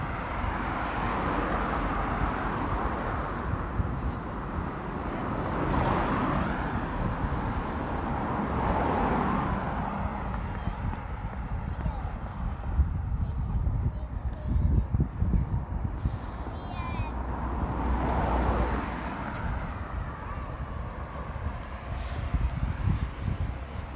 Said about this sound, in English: I think it's very noisy for a road, so there must be more traffic